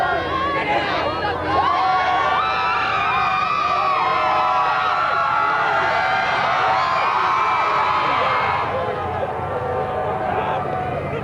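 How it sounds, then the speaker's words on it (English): The Northman home crowd at a high school football game roars and cheers steadily in a large stadium, a dense sustained wash of voices. "Now the Northman crowd trying to fire their team up"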